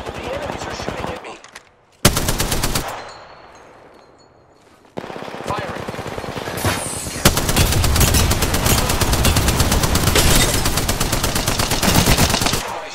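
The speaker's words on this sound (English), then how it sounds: "The enemies are shooting at me." Loud automatic gunfire from enemies in the shooter game Apex Legends rattles in sustained bursts with short gaps, then a long continuous volley, close and dominant throughout.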